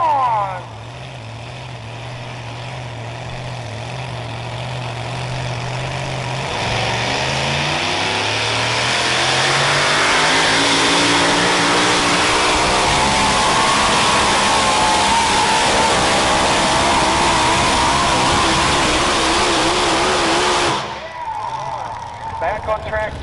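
A 1972 Chevy pulling truck called Fantasy, an alcohol-burning puller at a truck and tractor pull, roars loud and close, its engine climbing steadily in pitch over a long full-throttle run before cutting off abruptly near the end.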